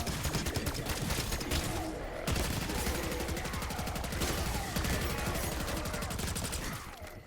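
Assault rifle fire in a video game, dense rapid bursts of shots rattling almost nonstop and loud throughout, with a brief pause near two seconds and fading at the end.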